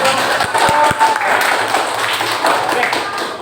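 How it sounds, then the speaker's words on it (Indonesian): A classroom audience applauds a group's presentation, with scattered claps at first that blend into a steady wash of clapping, while some voices are faintly heard. "Ya, berikan aplaus untuk"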